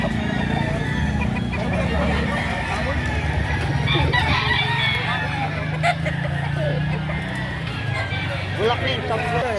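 A rooster crows a few times amid background chatter and a busy outdoor murmur at a chicken market in Lipa, Batangas, moderately distant.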